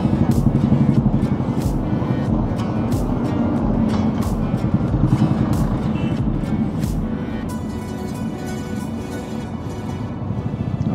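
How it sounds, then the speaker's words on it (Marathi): Dense road traffic passing close around a riding motorcycle, a steady loud broadband rumble of engines and wind with brief sharp noises from nearby vehicles throughout. "Too much traffic."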